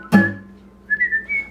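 A person whistles a short tune: one sharp opening note, then a quiet pause before a rising run of clear, bright whistled notes, close and alone.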